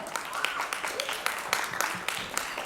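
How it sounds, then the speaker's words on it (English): Audience applause and clapping welcoming the Executive Director of Mcure Pharmaceuticals onto the stage at a leadership summit, a steady, dense patter of many hands filling the hall, with a voice briefly audible over it. "keep the applause going"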